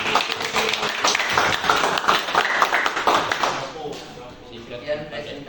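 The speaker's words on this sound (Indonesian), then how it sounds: "Berikan tepuk tangan dulu." Classroom audience applauding after a student presentation on data security, a dense patter of handclaps under a speaking voice that fades out partway through, with talk continuing afterward.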